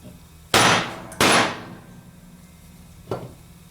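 Three sharp metallic hammer strikes on the frame of a Chevy 130D alternator being split apart, two loud blows close together and a softer third after a pause, near and with no talk.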